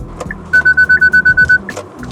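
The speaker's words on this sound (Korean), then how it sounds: "사각지대 경보 시스템이 이렇게 삐비비 소리가 나요." A Kia Sportage The Bold with a 2.0-litre petrol engine sounds its blind-spot warning: nine quick, evenly spaced electronic beeps, loud and close inside the cabin, with no talking.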